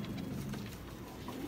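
Breed pigeons cooing in a loft, low continuous rolling coos with faint bird calls layered over a steady background hum, fairly quiet and without talk.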